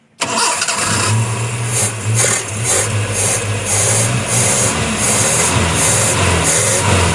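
A car engine with a rough, jamming fault cranks and catches after a brief silence, then runs steadily at a loud, rough idle with a low rumble.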